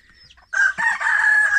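A rooster crows loudly and close by on a rural Thai farm where chickens are being fed, a single drawn-out call rising after a brief soft cluck.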